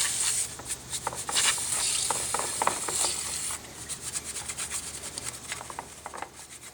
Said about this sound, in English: to clean it, I got some of this brake clean